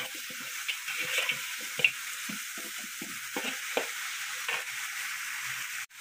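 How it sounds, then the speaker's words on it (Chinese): Blanched bones stir-fried in camellia oil in a pot give a faint, close sizzle with scattered scraping stirs and knocks throughout. "把焯好水的骨头在锅里面用三茶油来炒一下"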